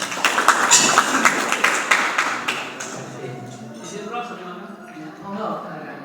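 An audience at a national working meeting held at a villa in Bogor breaks into broad, steady applause that slowly dies away while a voice starts talking over the tail end.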